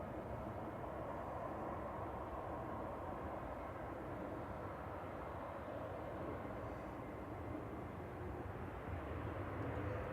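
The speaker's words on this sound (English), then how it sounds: "There's ribbons on this Turkish A321. Coming in from Istanbul" A Turkish Airlines Airbus A321 arriving from Istanbul at Manchester Airport gives a faint, distant, steady engine rumble that holds evenly for about ten seconds, with no voices.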